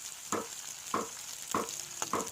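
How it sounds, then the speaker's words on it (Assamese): Onions frying in a pan, a steady bright sizzle with four evenly spaced scraping stirs of a spatula, close and alone without talk. "এই আমাৰ পিঁয়াজ ভজা হৈ গৈছে"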